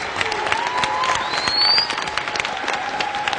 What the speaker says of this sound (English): Let's give everybody up here a big round of applause.